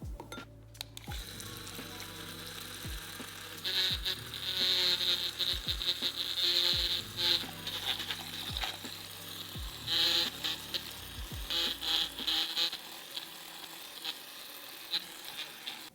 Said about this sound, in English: I like to use this little guy over here, this frother.